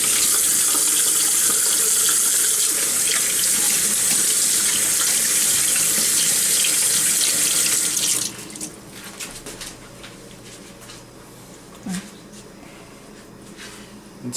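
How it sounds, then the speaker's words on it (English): A kitchen tap runs steadily while hands are washed under it before cooking, a loud close hiss that shuts off partway through, leaving faint handling noises. "Gonna wash my hands before I start cooking."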